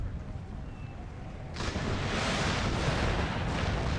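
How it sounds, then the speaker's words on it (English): Cannon and howitzer artillery fire in Empire: Total War, a dense, continuous roar of battle that swells abruptly about halfway through into a loud, sustained barrage of overlapping booms. "I need some cavalry to go after those cannons."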